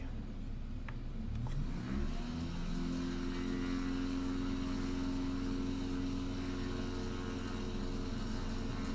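A bush plane takes off in Microsoft Flight Simulator, its engine drone rising in pitch over the first few seconds as power comes up, then holding a steady, even hum.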